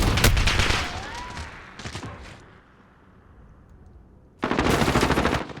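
Bursts of automatic gunfire from a competitive Call of Duty-style domination match, loud rapid rattling volleys at the start, a shorter burst in the middle, then a quiet lull before another dense loud burst.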